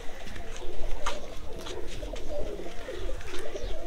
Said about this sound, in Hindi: ये नायाब कबूतर है